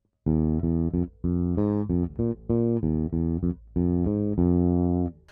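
A bass guitar plays a choppy riff of short, punchy notes in clustered groups with brief gaps, leading notes sliding into each chord tone, close and alone.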